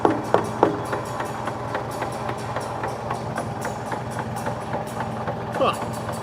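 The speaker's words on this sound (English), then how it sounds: "it sounds like our ticking's coming from somewhere inside the bell housing here" A Farmall tractor engine idles with a steady, regular ticking from inside the bell housing between engine and transmission, a close, even mechanical tapping over a low running drone.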